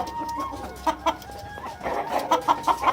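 Elba x KUB crossbreed hens cluck in short repeated bursts nearby, with a steady faint background of other birds and farm ambience.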